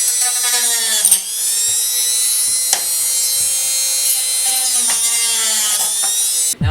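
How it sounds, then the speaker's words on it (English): Dremel rotary tool cutting a plastic car dash stereo frame, a loud high whine that dips and bites as the cutter loads up in the material, with brief pauses and scraping. "we're going to use a Dremel tool to do that here"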